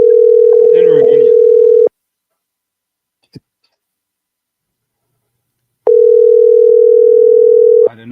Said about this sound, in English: I'm calling her. It's saying it's calling